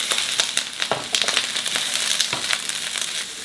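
Chopped onion and scallions sizzle and crackle in hot oil in a pan, a steady close frying hiss broken by sharp pops and stirring scrapes, with no talk.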